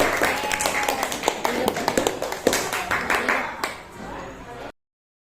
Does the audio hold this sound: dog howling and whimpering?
no